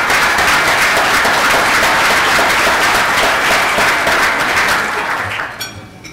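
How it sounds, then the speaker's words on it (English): A luncheon crowd gives loud, dense applause that holds steady for several seconds before tapering off near the end. "So I'd like to ask all of you to give them a rousing round of applause for that"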